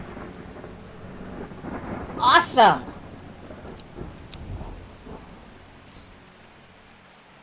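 Thunderstorm with steady rain in the video game Strange Horticulture, a loud thunder crack rolling through midway over a constant rain hiss, with a voice talking briefly.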